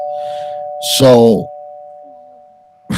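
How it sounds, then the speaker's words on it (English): A doorbell sounds a sustained two-tone chime, fairly loud and close, while a voice speaks briefly over it. "just a fucking doorbell."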